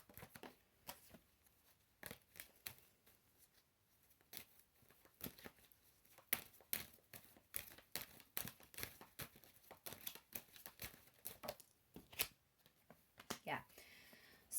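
Tarot cards being shuffled by hand, a quick run of crisp riffling and flapping bursts repeated across the whole stretch, close and fairly quiet, with a voice speaking now and then.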